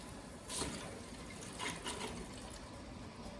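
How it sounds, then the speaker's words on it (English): Water rushing through a newly opened washing machine supply line in a basement, a steady hiss with brief louder surges, moderately close and fairly quiet, with no talk. "You can hear the water go through."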